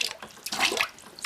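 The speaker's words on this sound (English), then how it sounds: "So you fill this water up here. It's a foot pump." Water from a foot-pumped sink at an off-grid homestead gushes in short uneven spurts into the basin, close and fairly loud, with no talking.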